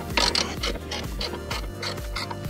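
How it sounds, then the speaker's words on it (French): A ratchet wrench with a 17 mm socket turns a suspension bolt on an Alfa Romeo 159, giving rapid, repeated close metallic clicks in quick rhythmic strokes with no talking. "Donc douille de 17."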